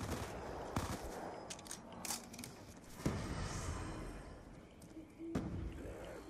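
An MP5 submachine gun fires in Black Ops 2 Zombies in a 4v4 Grief match on Farm, with rapid bursts and sharp shots over busy game noise and a few heavy thuds.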